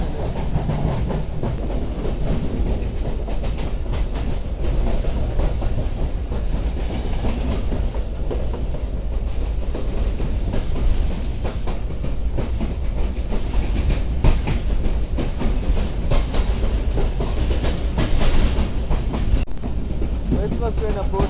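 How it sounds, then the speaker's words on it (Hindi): The Mohen Jo Daro Express passenger train runs through the Sindh countryside near Sukkur, approaching Arai Road station. A loud, steady rumble of wheels on rails with a faint clickety-clack continues without a break throughout. "इस वक्त ट्रेन अप्रोच कर रही है अराई रोड रेलवे स्टेशन पर"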